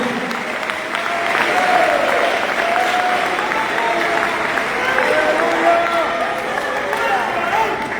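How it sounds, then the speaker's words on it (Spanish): A church congregation at a seminary gathering in Panama applauds loudly and continuously for several seconds, a dense crowd of clapping with voices cheering and calling out over it. "dale un aplauso al Señor"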